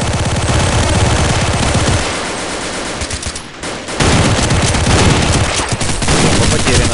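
Counter-Strike 1.6 machine gun fire rattles in dense, loud, rapid bursts, almost continuous with a short break in the middle, close and harsh.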